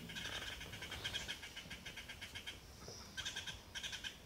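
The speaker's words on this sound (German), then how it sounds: "Möwen!" Seagulls call repeatedly over the sea just after a night at sea, their high, harmonic cries rising in clusters over a constant rushing background.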